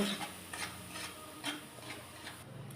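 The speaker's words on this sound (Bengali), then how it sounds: "মশলাটাকে ভালো করে কষিয়ে নিচ্ছি" Quiet rhythmic scraping of a spoon stirring chilli powder and spices in a wok, a few strokes about half a second apart, with faint sizzling underneath.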